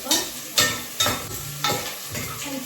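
Onions frying in a pan for chicken biryani, with a steady sizzle broken by about five rhythmic stirring scrapes, close and moderately loud, and no talking.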